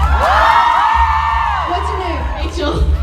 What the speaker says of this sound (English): round of applause for the human